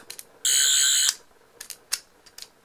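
A Doctor Who 12th Doctor sonic screwdriver toy gives one loud, steady high electronic whir lasting about half a second, followed by several faint clicks from its button.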